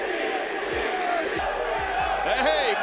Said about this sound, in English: They're actually cheering for Alberto.